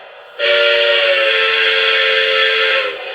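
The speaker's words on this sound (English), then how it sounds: "Here's the whistle." A single sustained steam whistle from a Lionel Polar Express toy train blows loud and steady for about two and a half seconds, with a faint hiss before and after.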